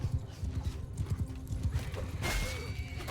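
Horses gallop across a battlefield in Mount & Blade II: Bannerlord, with steady rapid hoofbeats and a neigh, amid horse archers and javelin cavalry; moderately loud and continuous, with no voices.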